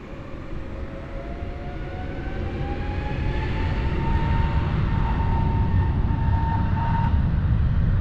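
A jet airliner takes off from runway 20 at Lisbon Airport, its engine roar swelling steadily over eight seconds as a rising whine climbs above a broad rumble.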